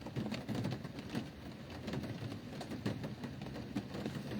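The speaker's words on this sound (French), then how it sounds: "Ah, il pleut ici." Rain falls steadily outdoors, a dense close patter of drops striking surfaces, moderately loud and continuous across the short stretch with no voices over it.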